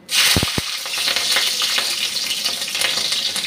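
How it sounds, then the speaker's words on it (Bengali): Green chillies drop into hot oil with a sudden loud burst of sizzling that settles into a steady, close frying hiss. "এখন আমি কাঁচা লঙ্কাটা দিয়ে দেব।"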